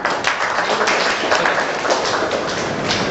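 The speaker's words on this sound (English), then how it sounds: "once again clap for that" Steady clapping from an audience at a mechanical engineering workshop, a dense, even patter that holds at one level throughout with no voices over it.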